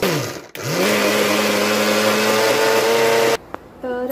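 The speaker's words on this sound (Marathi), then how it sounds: "आता हे वाटण, कांदा, खोबरं हे आपल्याला वाटून घ्यायचं आहे मिक्सर मध्ये।" A mixer grinder whirs loudly and steadily as it grinds roasted onion and dried coconut into a paste for green peas curry. It stops briefly at the start and again near the end, spinning up and winding down each time.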